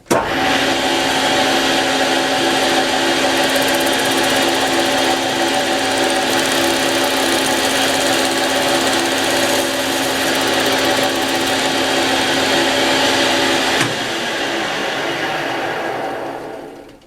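A 2M112 bench drill press runs steadily at close range, a loud continuous motor whine with a constant hum that shifts slightly near the end before spinning down.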